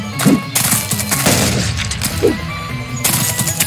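Machine gun fire from the audio game Blood Shed comes in heavy, close bursts separated by brief gaps, with thumping impacts and crashes mixed in.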